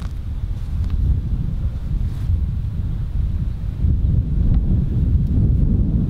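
Strong wind on a golf course buffets the microphone in a constant low roar that swells slightly toward the end, loud and close with no voices.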